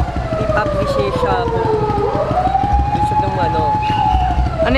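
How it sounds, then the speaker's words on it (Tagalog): Fire truck siren on a busy Manila street, a loud, close wailing tone rising and falling over steady traffic rumble and engine noise. "Isa yan sa mga tunog ng Maynila, yan. Sirena ng bumbero."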